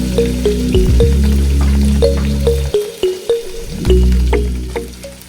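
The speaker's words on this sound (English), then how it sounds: "And then I am going to deep fry my meat." Beef pieces deep frying in hot oil in a big pot for a Ghanaian beef stew, giving a steady loud sizzle and bubbling with a few short breaks and sharp crackles throughout.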